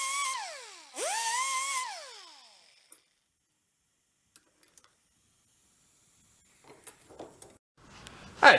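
A grinder cuts metal cams on a vintage Snap-on airport toolbox, two loud whining bursts that rise and fall in pitch, then quiet with scattered faint clicks and a soft scrape at the end.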